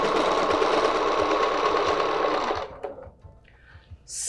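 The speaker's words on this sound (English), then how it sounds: "And we are going to stitch 3/4 of an oval." A sewing machine runs steadily as it stitches three-quarters of an oval along a quilting template, a loud continuous whir with a rhythmic pulse for about two and a half seconds before it stops and falls quiet.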